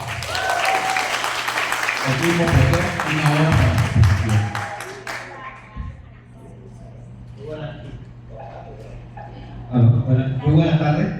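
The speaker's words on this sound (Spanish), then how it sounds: "recibamos con un fuerte aplauso al Magister Hugo Real" Audience applause greets a lecturer at a formal academic talk, a clatter of clapping hands filling the opening seconds before fading as someone speaks; a brief burst of clapping returns near the end.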